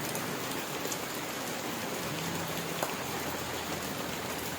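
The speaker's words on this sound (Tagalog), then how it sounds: "Grabing ulan." Heavy rain pours down steadily and loudly, a dense continuous hiss that holds without a break for the whole stretch.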